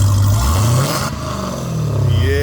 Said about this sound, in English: Rich, give me a rev